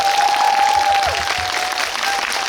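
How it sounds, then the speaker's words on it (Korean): Steady audience applause at a film talk event with an actor on stage, a continuous wash of many hands clapping throughout, with a faint tone running under the noise. "박수 한번 주십시오."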